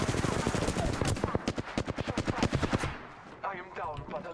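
Gunfire in the Apex Legends game comes as a rapid automatic burst of loud, evenly spaced shots lasting a few seconds. It then gives way to quieter clatter and a faint voice.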